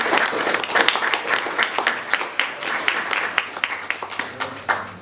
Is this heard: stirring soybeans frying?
no